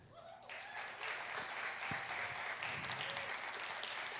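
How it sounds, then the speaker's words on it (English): A crowd at a middle-school jazz concert breaks into applause for a vocalist, swelling within the first second and continuing as steady, dense clapping. "I want you to give a very huge round of applause for Miss Mia Rivera"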